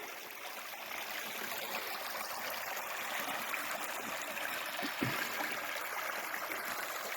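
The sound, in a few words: small brook flowing in forest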